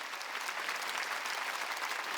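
A church congregation at a Wednesday worship service claps together in a steady, even burst of applause, fairly close and without voices over it.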